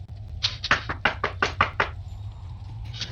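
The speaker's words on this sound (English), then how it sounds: "give a knock on the door" A heavy golden knocker on an old manor's front door strikes in a quick run of about eight loud, close knocks, then stops, with a low ambient hum beneath.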